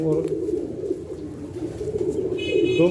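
Pigeons coo in a steady, low, rolling murmur that continues nearby throughout, with a voice talking over it.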